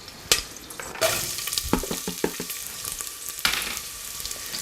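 A sliced medium onion drops into a hot pan with spices and fries with a steady sizzle, sharp bursts marking when it hits the oil and is stirred, close and moderately loud.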